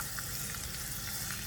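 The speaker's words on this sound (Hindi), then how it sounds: "और इसका लगाएंगे हम चटनी के ऊपर तड़का।" Tempering (tadka) for coconut chutney sizzling steadily in hot oil, a dense continuous frying crackle with faint pops, close and moderately loud, with no voices.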